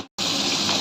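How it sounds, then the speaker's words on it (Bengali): Water is poured into a pan of chicken cooking with Kashmiri chili powder, turmeric and salt, making a steady, loud gushing splash that starts abruptly after a brief silence and continues evenly. "অল্প করে জল দেবো।"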